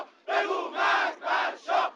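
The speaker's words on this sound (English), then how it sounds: "The crowd shouted death to the Shah" Anti-Shah demonstrators in Iran in 1978 shout in unison, four loud rhythmic chanted bursts from a massed crowd.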